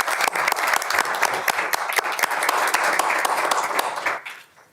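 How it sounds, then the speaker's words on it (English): Audience applause at a board of education meeting honoring board committees, a steady burst of clapping from a room full of people that holds for about four seconds before tapering off quickly. "So one last round of applause for all the board committees and the great work that they did this year."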